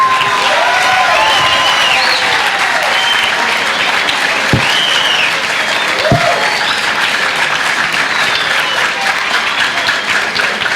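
Audience applause at a school talk about the 1968 student movement, sustained and loud, filling the room evenly with steady clapping and a couple of sharp thumps along the way.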